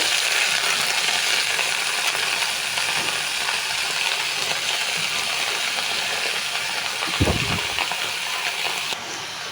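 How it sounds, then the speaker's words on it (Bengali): Chopped bottle gourd greens fry in a pan with a steady, broad sizzle that holds loud throughout, broken by a short low clatter near the end and no clear talk over it. "তো আমি এখন শাকগুলো দিয়ে দিচ্ছি, কেটে রাখা শাকগুলো।"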